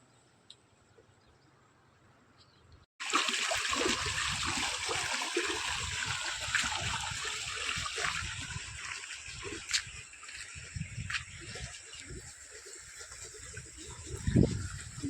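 Fresh water flowing outdoors on a sunny day, a steady broadband rush that starts abruptly after a quiet opening and continues loud and close with small splashy peaks.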